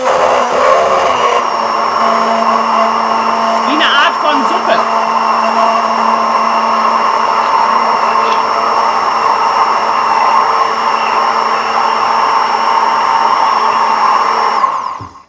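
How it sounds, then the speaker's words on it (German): An electric blender purees garlic into a fine paste, giving a steady, loud motor whine that runs continuously for about fourteen seconds and then cuts off. "Schön pürieren, dass es schön fein wird."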